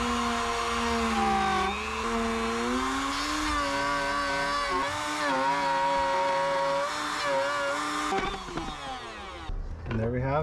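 A router bit spins into a subwoofer box panel, a loud continuous high whine with shifting pitch as it cuts, winding down near the end.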